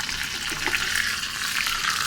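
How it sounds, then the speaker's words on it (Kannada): Mustard seeds and curry leaves sizzle steadily in hot tempering oil for a radish chutney, a dense close crackling hiss with a few small pops, no voices. "ಸಾಸಿವೆ ಮತ್ತು ಕರ್ಬೇವಿನ ಸೊಪ್ಪನ್ನು ಹಾಕಿ ಲಾಸ್ಟಿಗೆ ಒಗ್ಗರಣೆ ಮಾಡಿಕೊಂಡು"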